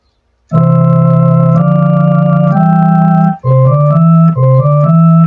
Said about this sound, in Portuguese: Tem um órgão 2.